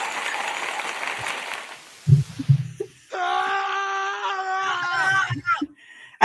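A screaming sound effect rises into a loud, drawn-out wailing scream with a wavering pitch. It comes after a hissy stretch and a few low thumps, and ends in brief clatter.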